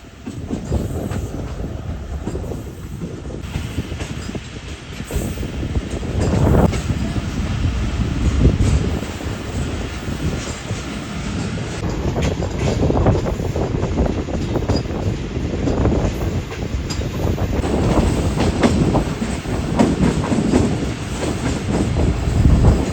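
The Awam Express rolls along the rails on its approach to Mehrabpur, a continuous loud rumble with clattering wheels and some squeal, heard from inside the coach for a long stretch.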